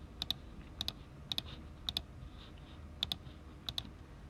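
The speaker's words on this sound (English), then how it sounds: "if I go to my calculator and I type in square root of 2" Calculator keys are pressed in pairs of sharp, bright clicks at a steady pace over a low background hum, with no talking.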